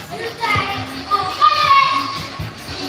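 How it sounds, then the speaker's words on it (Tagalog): Several children playing and shouting noisily together at an outdoor fish-pond setting, a busy, continuous din of young voices close by with overlapping chatter. "Ang ingay ng mga bata"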